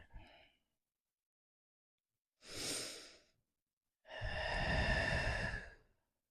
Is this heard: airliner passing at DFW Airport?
no